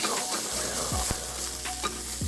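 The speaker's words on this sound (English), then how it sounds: "once the lox is in there with the onions getting sizzling" Lox and onions sizzle steadily in butter in a frying pan, a close, continuous hiss broken by a few soft scraping pokes of a utensil.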